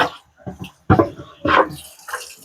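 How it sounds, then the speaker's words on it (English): A juicer part is rinsed under a running tap, with water splashing in several uneven bursts that swell and fade, close and fairly loud, and no talking over it. "Let's rinse this out as well."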